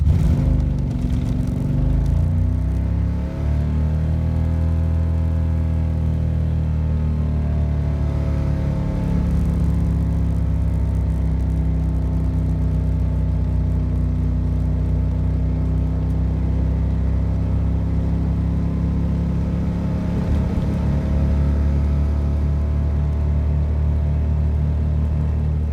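A 670 cc Predator small engine with dual carburetors drones steadily at wide open throttle during a 0 to 50 acceleration run, its pitch rising gradually with a low rumble throughout, loud and close.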